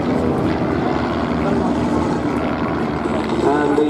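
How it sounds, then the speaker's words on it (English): First World War SE5 fighters, a BE-2 and a Fokker triplane fly overhead during an air display at Duxford, giving a steady, loud, droning propeller-engine roar that holds throughout with a faint voice underneath. "And the two SE5s making a break away again, and above us the battle between that BE-2 and the Fokker triplane still continues."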